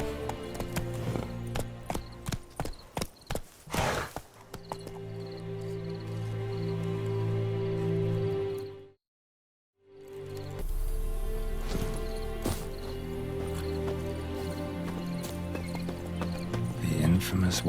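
A horse gallops in The Witcher 3 with steady, rhythmic hoofbeats over game ambience. The hoofbeats cut out briefly midway and then carry on.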